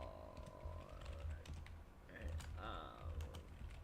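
Keys clatter on a computer keyboard in quick, uneven bursts of soft clicks, quiet and close, mixed with game sounds and a faint voice in the background.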